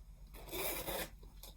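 A zipper on a knitting bag being opened or closed makes a single short, close rasping pull lasting under a second, set against quiet room background.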